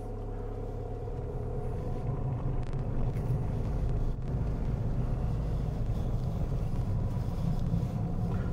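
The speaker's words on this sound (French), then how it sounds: "le bruit du moteur" A car engine hums steadily at low revs during a driving lesson as the car pulls off, a close, continuous rumble with slight rises in engine note.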